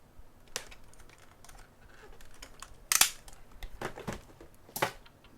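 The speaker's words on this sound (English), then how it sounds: "What I want to do now is test these pesky keys that aren't working." Keys on a computer keyboard are pressed one at a time during a test of faulty keys: sparse, irregular clicks, a few sharp and loud, others soft, close up with no talking.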